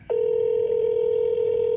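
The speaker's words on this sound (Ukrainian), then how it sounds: "Спочатку дзвінок власнику." Telephone ringback tone on a call to a Mercedes seller, a steady, unbroken electronic tone that starts abruptly and holds loud and clear to the end.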